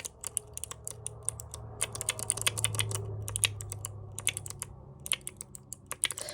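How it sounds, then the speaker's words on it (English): A clicky keyboard fidget toy is pressed in quick, irregular bursts of sharp, close clicks over a low steady hum, with no talking. "They're, like, the keyboard clicky thingies."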